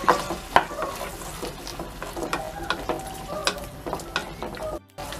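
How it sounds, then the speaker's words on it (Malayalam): Soya chilli mixture with soy sauce being stirred in a pan: a steady sizzle with repeated scraping strokes of a spoon, close and moderately loud, with no voices. "അതും കൂടി ഒഴിച്ചു കൊടുത്തിട്ട് ഇനി ഒന്ന് മിക്സ് ചെയ്ത് കൊടുക്കാം."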